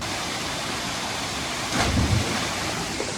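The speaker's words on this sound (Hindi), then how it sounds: "सस्ते बियर ग्रिल्स बन के झरने के पास पहुंचते हैं" A small but deep waterfall near Tarkeshwar Dham in Uttarakhand gives a steady, close rushing-water roar that swells briefly louder midway, with no voices.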